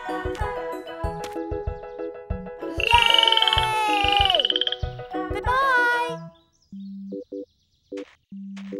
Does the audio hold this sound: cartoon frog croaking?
yes